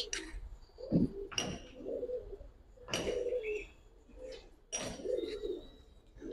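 Indian Khaki Dom and Silver Dom pigeons coo, kept as pet birds at a pigeon seller's. The soft, close, repeated throaty coos come in rhythmic bursts with brief pauses, alongside faint background noises.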